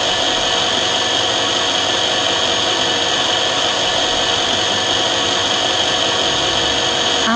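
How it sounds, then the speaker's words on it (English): A 3G lens drilling machine mills an eyeglass lens, a steady, loud, high whine with a grinding hiss that runs unbroken and alone throughout. "After the milling process is finished, press the right arrow button to stop the milling cutter moving."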